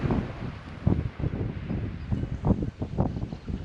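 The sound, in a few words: wind blowing through seagrass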